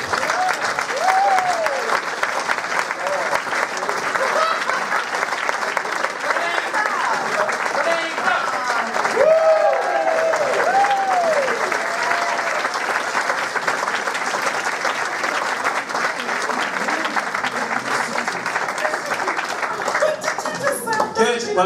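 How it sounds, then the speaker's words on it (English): An audience applauds the cast of an amateur murder mystery performance, a long, steady wash of clapping from many hands that runs for over twenty seconds, with occasional cheers and voices rising above it. "Give them a round of applause."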